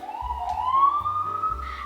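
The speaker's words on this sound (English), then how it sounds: "It keeps turning on and off its siren." A police siren wails at fairly close range, its tone sweeping upward and then cutting off and restarting in short bursts, with a low engine rumble underneath and no talking.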